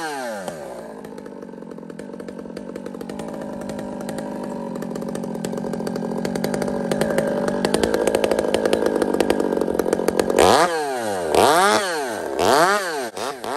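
Chainsaw bucking a felled tree log into a short length, a loud continuous buzzing whine that rises in pitch as the cut progresses, then revs up and down sharply near the end.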